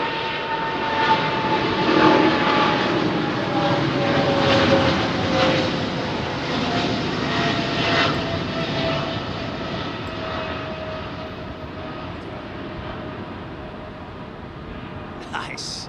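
A jet airliner on Heathrow's runway 27R at night sends out a loud, heavy engine roar with a slowly sliding whine, swelling and then easing over about sixteen seconds, with faint voices beneath it.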